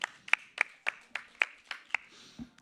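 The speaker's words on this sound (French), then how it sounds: "On va l'applaudir s'il vous plaît quand même. On applaudit bien fort, s'il vous plaît." A small audience at an esports commentary workshop claps in a sparse, steady rhythm, about eight distinct handclaps spaced roughly a third of a second apart, fairly faint and close, with a brief murmur near the end.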